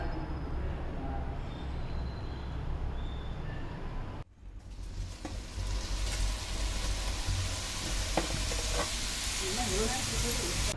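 Crispy snacks deep frying in hot oil, a steady broadband sizzle and hiss that cuts out briefly, then returns louder and denser with scattered pops and crackles.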